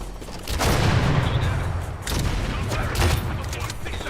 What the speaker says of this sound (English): I'm throwing a grenade by the van!